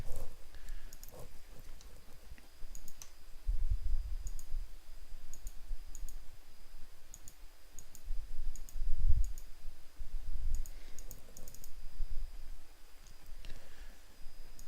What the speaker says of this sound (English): That's a lot of clicking.